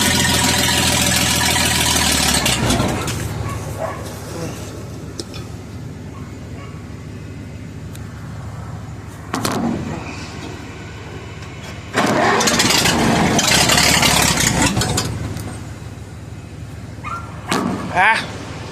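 An Oliver 70 tractor engine cranks and catches, running loud for a few seconds, dropping to a rough low idle, then surging again in bursts after a restart; someone speaks briefly in between.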